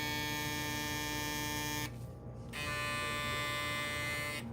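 A previous-model Instinct electric hair clipper runs close by with a steady motor buzz and strong harmonic hum, dipping briefly once before resuming alone, with no talk.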